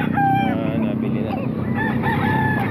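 Roosters and chickens at a Baliwag tiangge market crow in overlapping calls, one crow near the start and another toward the end, over a dense background of market chatter and voices.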